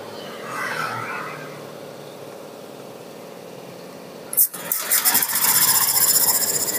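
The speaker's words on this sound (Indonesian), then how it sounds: "motornya nyala tuh, dengeran nggak?" A Honda Scoopy scooter with a faulty CKP sensor cable engine firing up, with a few sharp catches before settling into a steady, close, loud running drone after a quieter stretch.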